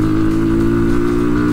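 A 2024 Formula X2 200 motorcycle engine holds a steady, close, loud rev with a buzzing tone for a brief moment.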